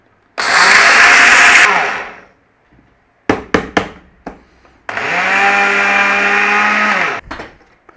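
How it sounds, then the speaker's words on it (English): A kitchen blender whirs loudly in two separate bursts while blending flaxseed egg replacer, with a few sharp knocks and clunks of handling in between. "that's going to go on the blender like so"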